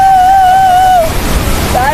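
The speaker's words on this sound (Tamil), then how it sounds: "தண்ணி அப்படியே பிச்சுட்டு வருது." Rushing water at Thiruparappu waterfall, swollen after rain, roars loudly and close, with a tonal whistle-like sound over the first half and again near the end.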